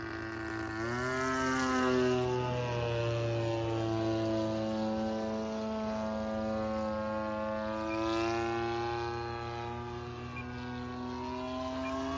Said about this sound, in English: that's a smooth flying airplane